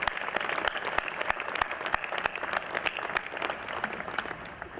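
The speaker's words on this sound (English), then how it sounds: "let's have another round of applause for all the mothers out there" Sustained applause from a large audience of about 4,500 people at a university commencement ceremony, a dense, steady patter of many hands clapping at once with a few sharper individual claps standing out from the crowd.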